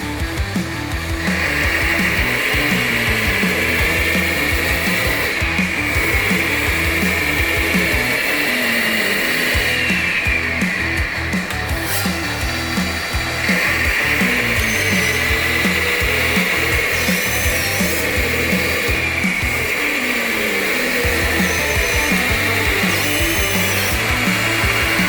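A 1/14-scale JD remote-control hydraulic 6x6 articulated model runs with a steady, loud mechanical whine and buzzing hum that keeps going without pause, its pitch shifting slightly as the hydraulics move.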